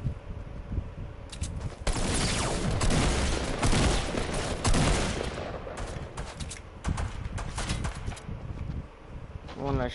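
Fortnite sniper gunfire crackles through a dense, noisy battle mix, with several sharp shots and bursts over roughly ten seconds, sitting under and between players talking.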